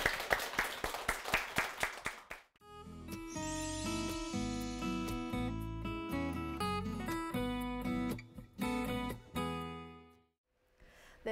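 A lecture audience gives a burst of clapping for a speaker, sharp claps at the start, then loud music with a strong beat takes over and fades out.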